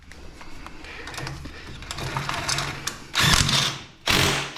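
A ratchet tightens the shock bolt on a Yamaha YXZ1000R side-by-side during an axle upgrade, giving a run of quiet mechanical clicking followed by two louder, closer bursts of ratcheting near the end.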